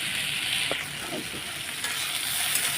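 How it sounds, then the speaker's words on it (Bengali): Leftover fried food reheating in a little oil in a pan at home, with a constant close sizzle and occasional light scraping and stirring sounds, no talking. "এখন ভাজাটা গরম করে নিচ্ছি"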